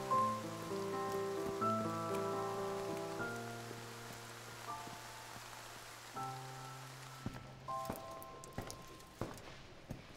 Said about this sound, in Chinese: 外面下那么大雨，你怎么回来？